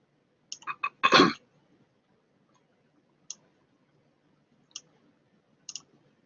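Mouse clicks while dragging a router in a network simulator: a quick cluster of sharp clicks with one heavier knock, then single isolated clicks spaced a second or more apart in an otherwise quiet room.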